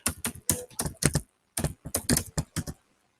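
Rapid keystrokes on a computer keyboard, entering a disk command to repair a corrupt pen drive, rattle out in two quick bursts, loud and close, followed by silence.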